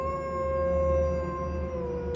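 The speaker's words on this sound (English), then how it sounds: "An answering howl came from deeper in the woods" A wolf howls from deep woods, one long sustained tonal wail holding steady pitch with rich overtones, loud and unbroken over a low rumbling backdrop.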